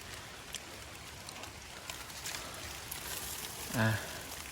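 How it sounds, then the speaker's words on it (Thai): Light rain begins falling in a forest, a soft steady patter with scattered drops, while a voice speaks nearby and a brief louder sound pops up near the end. "เริ่ม ลง แล้ว ฝน"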